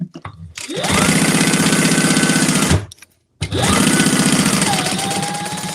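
Two sewing machines stitch at the same time with a loud, rapid mechanical whir. It cuts out briefly partway through and then restarts at full speed.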